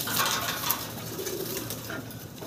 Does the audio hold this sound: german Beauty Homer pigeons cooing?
yes